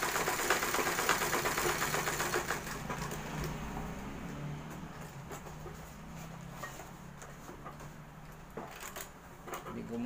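A sewing machine runs while stitching handmade sandals, a continuous rattling motor hum with fast needle clatter that starts loud and eases to a steadier drone, with no speech.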